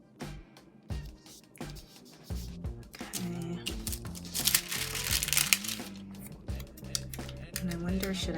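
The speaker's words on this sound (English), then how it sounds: "I'm going to come around and just kind of fussy cut around it." Scissors fussy cutting around paper pieces for a mini planner, a series of close crisp snips and paper rustling that builds louder toward the middle, with no talk.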